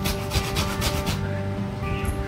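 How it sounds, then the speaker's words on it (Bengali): Pointed gourd (potol) is rubbed hard against a kitchen grater in quick, rasping back-and-forth strokes, close up and steady, with a faint background hum underneath. "তারপরে পটলটাকে ভালো করে ঘষে নিচ্ছি একটা গ্রেটারের সাহায্যে"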